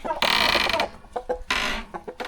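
Turkeys call in loud, raspy bursts, two long rattling calls with a few shorter clucks between them, close by.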